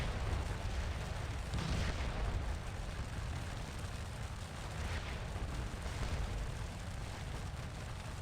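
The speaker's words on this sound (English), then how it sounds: "Volley fire." Musket volley fire in the Napoleonic battle game Scourge of War: Waterloo, a dense continuous rumble of distant massed shots with occasional louder bursts, steady and loud throughout.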